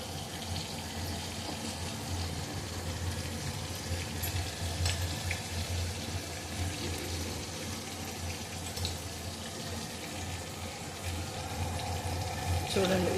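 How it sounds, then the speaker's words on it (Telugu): Mustard seeds and fenugreek powder sizzle in a hot pan with a continuous, moderate hiss and crackle that holds steady throughout. "ఇప్పుడు ఆవాలు, మెంతులు పొడి వేస్తాను."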